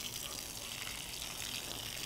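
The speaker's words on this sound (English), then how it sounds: "So you want to water the whole bed." Water gushes steadily onto a freshly planted garden bed, a soft, continuous hiss of spray that holds at a constant, fairly faint level for about two seconds.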